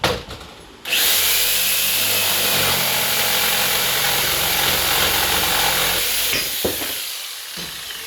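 A power saw fitted with a new wood blade cuts about four inches off a termite-damaged rafter in a 1972 mobile home, a loud steady whine starting abruptly, running several seconds, then spinning down.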